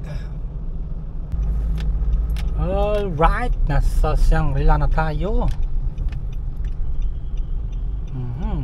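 A steady low rumble of a car moving through Manila traffic on EDSA toward Shangri-La, with faint keys jangling, heard from inside the car under a voice.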